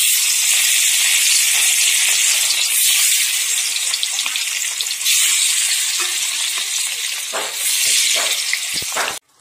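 Pieces of rohu fish fry in hot oil in a wok with a steady, loud, close sizzle, marked by a few sharper spatters near the end before it cuts off.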